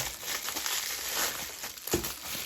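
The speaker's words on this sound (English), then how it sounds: "the lens comes in this bubble wrap packing" Bubble wrap packing around a Canon EF 50mm f/1.8 STM lens crinkles and rustles softly while being handled close by, steady and faint, with one slightly sharper crackle near the end.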